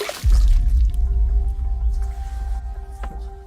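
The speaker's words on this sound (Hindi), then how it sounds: "क्या बदतमीजी है, पानी क्यों फेंका?" A splash of water thrown onto a person, a sudden loud wet slap followed by dripping and sloshing that fades over a few seconds, with no talk.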